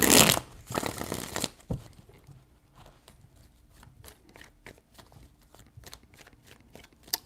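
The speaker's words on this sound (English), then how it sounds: "Three shuffles." Tarot cards shuffled close by: a loud, dense riffling burst in the first second and a half, then a string of light, evenly spaced card taps and clicks.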